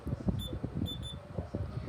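Short electronic beeps from a talking watch after its alarm/set button is pressed twice, a few thin high tones at moments over steady low background noise.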